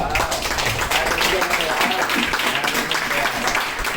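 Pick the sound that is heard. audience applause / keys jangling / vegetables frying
audience applause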